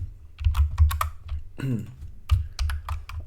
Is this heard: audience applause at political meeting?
no